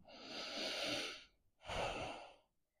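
Two deep, steady yoga breaths in downward dog during an Ashtanga routine, a long airy exhale followed by a shorter inhale-exhale, close and clear with no talking.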